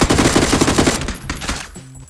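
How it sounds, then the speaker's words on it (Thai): Automatic K2 rifle fire in PUBG, a rapid, loud burst of closely spaced shots for about a second, followed by a few scattered, quieter shots and a short tonal game cue. "เคทูมันยิงออโต้โอเค"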